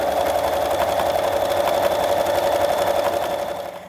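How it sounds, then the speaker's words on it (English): A Bernina sewing machine runs steadily while stitching a decorative edge along a raw fabric edge, a continuous close mechanical whir with a fast regular needle rhythm that slows to a stop at the end. "you're just going to continue around your project, neatening that raw edge with a decorative stitch"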